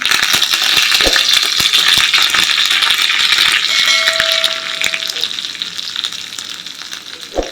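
A tadka of green chilli and curry leaves hits hot oil for koshimbir, a loud, dense, crackling sizzle that spatters continuously up close, sharp pops scattered through it, easing slightly toward the end with no speech.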